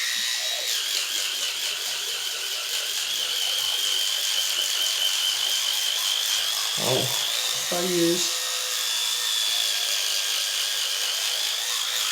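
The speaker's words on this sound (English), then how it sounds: "next, I just brush my teeth." Electric toothbrush buzzing steadily in a mouth during tooth brushing, a constant close whine with brief gurgles, and a few spoken words over it.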